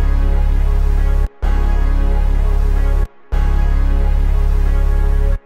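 A melodic sample in an FL Studio Detroit-style beat, processed through a bus with compression and other effects: a dense, full sustained tone with rich harmonics, broken by two short gaps, playing loud with no voices.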